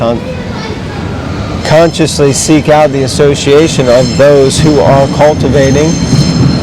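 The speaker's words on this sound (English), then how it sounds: "Excuse the loud noise in the background of the train passing." A passing train makes a loud, steady rumble and roar in the background throughout, while someone talks over it in the foreground.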